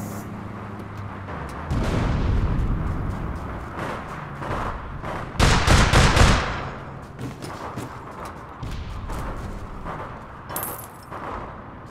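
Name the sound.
gunfire and shotguns in the video game APB Reloaded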